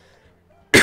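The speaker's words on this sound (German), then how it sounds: "Und mal noch leichten Husten." A single short, sharp cough bursts out near the end after near silence, loud and close.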